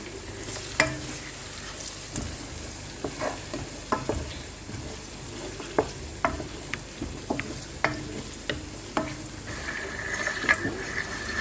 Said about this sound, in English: So you leave it on fire for some time so that the onions will fry.